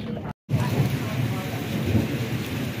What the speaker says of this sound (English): yeah, the rain is here now.